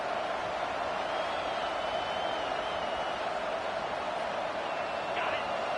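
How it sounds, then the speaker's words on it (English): A packed stadium crowd at a college football game roars loudly and steadily, a dense, unbroken wall of cheering that holds for several seconds. "This crowd, full throat, splitting the eardrums and letting them know it's going to be a long day."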